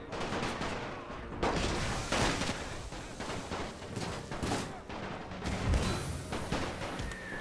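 Dense, continuous rifle fire from massed troops on a World War I battlefield in a strategy game set in Serbia, crackling volleys overlapping into a steady loud roar with sharper bursts throughout.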